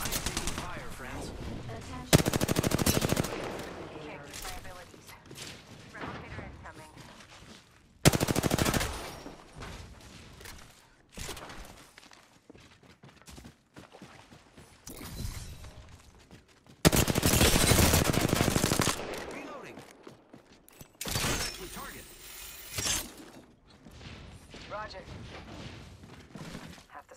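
Automatic and single gunfire in a ranked Apex Legends match, bursts of loud rapid shots recurring several times across the stretch, separated by quieter gaps with voice chat talking underneath.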